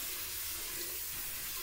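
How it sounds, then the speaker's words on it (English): Tap water runs steadily from a faucet into a sink while hands are wetted, a constant close splashing rush with no voices. "So we start by cutting the water on. We start by wetting our hands."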